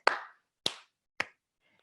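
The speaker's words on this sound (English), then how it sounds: "So we clap our hands side to side." Three sharp, evenly spaced claps ring out in a ballet class for young children, each a crisp, close slap that quickly fades, followed by a fainter fourth sound.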